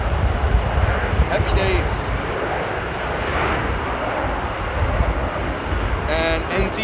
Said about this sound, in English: 1789 spooling up to go to Hanover on the E175